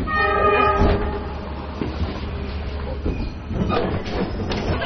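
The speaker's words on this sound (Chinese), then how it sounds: "经过5个多小时的路程，军列终于按时到达终点清水火车站。" A military train pulls into Qingshui station on the Gobi, its loud, steady rumble of rolling wheels filling the whole stretch, with a sustained horn-like tone near the start and wheel squeal over the rail noise.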